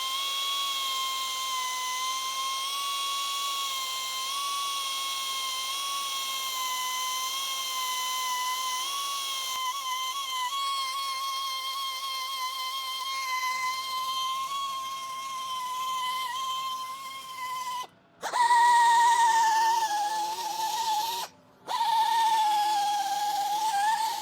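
A rotary tool with a soft bit whines steadily across a vintage stainless steel bicycle shifter, held close and loud for most of the stretch, its high tone wavering as the bit moves back and forth, with two brief cutouts near the end.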